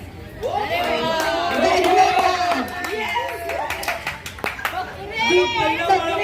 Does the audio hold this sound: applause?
yes